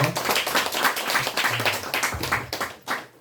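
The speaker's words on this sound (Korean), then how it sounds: "우리 하나님께 감사 박수 올립니다." A church congregation claps in thanks during a service, a loud, busy burst of many hands that pulses unevenly and eases slightly near the end.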